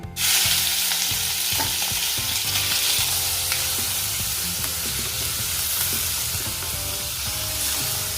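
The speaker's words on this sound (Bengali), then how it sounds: "এখন আমি কড়াইতে চিকেনটা দিয়ে দেবো" Chicken frying in a kadai, a loud continuous sizzle with scraping stirring strokes running throughout, close and alone without talk.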